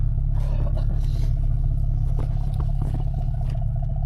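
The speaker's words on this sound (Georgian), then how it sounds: "ზაზა, გაჭიმე მანქანა." Car engine straining to pull another car stuck in snow, a loud, steady low drone with rhythmic throbbing, scraping and clattering layered over it.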